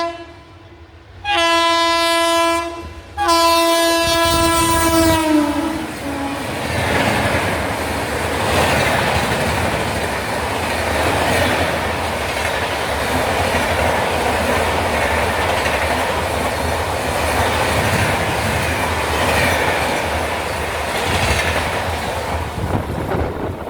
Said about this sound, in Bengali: সামনে আসছে আগরতলা এসএমবিটি বেঙ্গালুরু হামসাফার এক্সপ্রেস